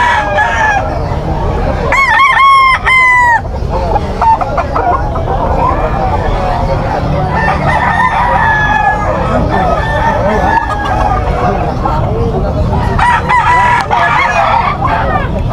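Roosters and stags crowing at a busy outdoor pet market, several loud near crows with clucking fowl between them, over steady crowd babble and talking.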